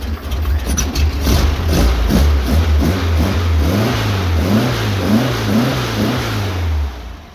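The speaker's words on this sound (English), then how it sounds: "I had to give it some gas there, and it's fine." A Volkswagen 2110cc stroker engine with an aftermarket camshaft revs up and down repeatedly, a loud, rough low growl rising and falling close by, shaky before warming up, then settling.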